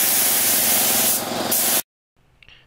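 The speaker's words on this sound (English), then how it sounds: "spraying the tack coat" Spray gun laying a heavy tack coat on a 1970 VW Beetle, a loud, continuous close-up hiss that stops suddenly, followed by near silence and a faint brief rustle.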